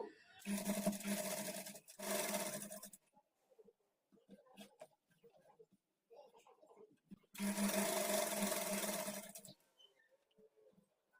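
A sewing machine stitches kurti sleeves in two bursts, a long run at the start and another near the end, each a loud steady whirring hum, with quiet gaps of small clicks and handling between.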